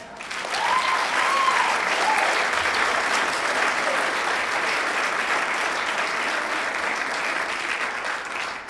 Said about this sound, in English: I was going to tell you guys to clap, but obviously you got that